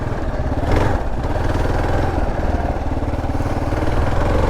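A motorcycle on TKC 80 tires riding slowly through sand and mud, a close, steady, rough engine note with clattering over it throughout.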